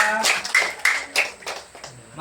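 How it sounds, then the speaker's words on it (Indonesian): Guests at an engagement ceremony clap briefly: a short run of sharp, uneven hand claps mixed with a speaking voice, fading after about two seconds. "Tepuk tangan buat mereka."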